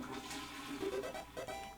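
A toilet flushes in the Deltarune video game, a short gurgling rush of water rising and swirling over a bit under two seconds, heard alone without speech.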